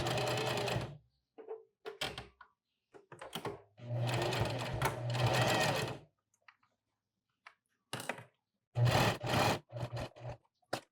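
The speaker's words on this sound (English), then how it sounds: "put it on the sewing machine, and then just put a stitch in it" Bursts of a sewing machine stitching, rapid mechanical whirring in several runs of one to two seconds, separated by pauses and small handling clicks.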